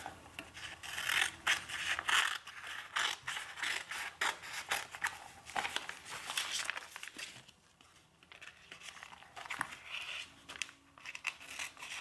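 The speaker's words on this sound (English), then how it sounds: "I'm going to just kind of eyeball and cut another piece." Scissors snipping through fabric while making a fabric cover for a 4x6 mini album, a steady run of close scratchy cuts and rustling handling of the material, no talking.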